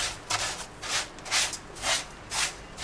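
Crunchy knafeh soaked in syrup being turned and stirred in a bowl, giving five rhythmic crackly rustling bursts at close range with no talking.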